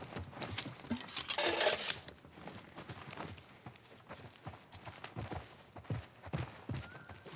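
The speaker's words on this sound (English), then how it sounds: "Let's get back to the horses." Horse hooves clip-clop in The Last of Us Part I, scattered uneven knocks and footfalls at moderate distance with a brief metallic jingle early on, quiet overall.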